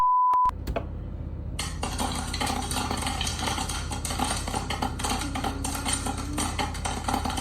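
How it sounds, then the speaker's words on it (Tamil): Popcorn pops rapidly in a pan, a dense, continuous crackle of sharp little bursts that starts after a short beep and carries on steadily, close and fairly loud. "பாப்கார்ன் பாப் ஆகுற சத்தம்."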